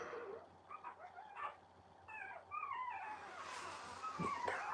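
Faint, high-pitched whimpers and yips from puppies kept in a heated room, several thin rising cries in a row at low volume, with no talking.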